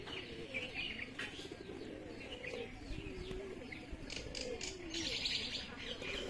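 Domestic pigeons coo steadily in a home loft, layered murmuring calls with occasional chirps and a brief flutter of wings, close and continuous throughout.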